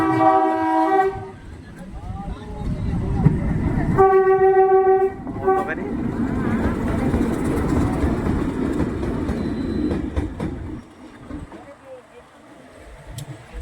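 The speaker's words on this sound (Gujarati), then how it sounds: "આ એક 2 એન્જિન ટ્રેન એટલી મોટી છે" A double-engine train rumbles past close by, its horn blaring in two long blasts over the heavy rolling roar, which fades as it moves on.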